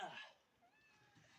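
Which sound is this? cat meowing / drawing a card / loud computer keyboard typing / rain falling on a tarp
cat meowing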